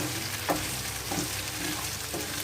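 Fresh peas and potatoes sizzle steadily in a hot pan, with a continuous frying hiss and a few soft stirring scrapes, close and alone with no talk.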